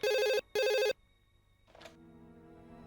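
A telephone bell rings in two loud, close bursts in a TV crime-drama scene, each a bright warbling trill about half a second long, followed by near silence and a faint rustle.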